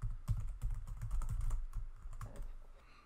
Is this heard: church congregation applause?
no